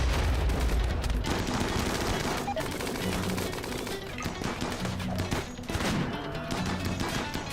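Sniper rifle fire in the colony game Rimworld: dense, loud cracks and bursts of shooting run continuously through the clip, with crashing impacts mixed in and no voices.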